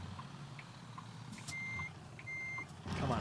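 A truck in American Truck Simulator backs up, its reversing alarm sounding as two long steady beeps over a low engine rumble.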